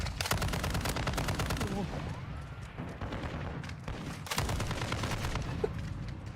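Video game gunfire in Call of Duty Warzone comes as rapid, sustained bursts of shots, loud and dense, with a brief lull midway before firing resumes, and talk is faintly mixed underneath.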